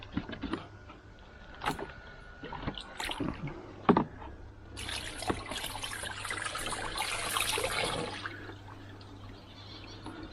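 Water is sloshed and poured through a shower trickle filter, with scattered knocks and splashes early on, then a steadier trickling and pouring wash that fades toward the end, all fairly close and quiet.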